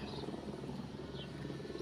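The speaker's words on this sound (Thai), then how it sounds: "วันไหนอากาศดีนี่ก็คือเฮลิคอปเตอร์ ก็ทำงานเสียงดัง" A helicopter drones steadily in the distance over a vegetable garden on a clear day, a faint continuous rotor hum with no voices.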